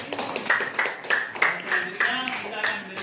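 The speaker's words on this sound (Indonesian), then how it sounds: "Kita beri tepuk tangan untuk penanya." A classroom audience claps for a student who asked a question, a few bursts of hand claps close by with voices mixed in over about three seconds.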